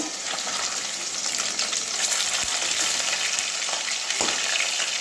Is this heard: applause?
no